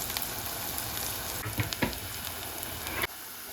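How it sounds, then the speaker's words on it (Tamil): Curry leaves fry in hot oil as a tempering for Jaffna-style elephant yam stir-fry, a steady close crackling sizzle with a few brief stirring clatters before it suddenly quietens near the end. "இந்த தாளிதத்துக்கு கொஞ்சம் கருவேப்பிலை சேர்ப்போம்."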